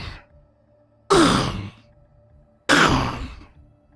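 A voice imitates deep guttural breathing rising from a pit, two long, loud, rasping exhalations a second and a half apart, each trailing off into quiet.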